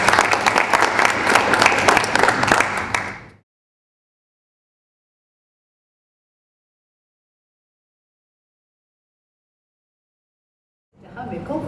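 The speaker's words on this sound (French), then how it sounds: "Je vous demande d'applaudir Georges Vozeille." Applause from the audience at a general assembly of a seminar: loud, dense clapping for about three seconds that cuts off into silence, then resumes faintly near the end.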